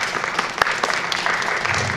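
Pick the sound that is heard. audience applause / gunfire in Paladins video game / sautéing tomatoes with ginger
audience applause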